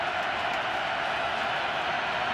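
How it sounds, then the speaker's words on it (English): Stadium crowd at a Ravens football game against the Steelers, a dense, continuous roar of thousands of fans cheering, steady and loud throughout with no breaks, heard from within the stands. "this crowd just rises as one"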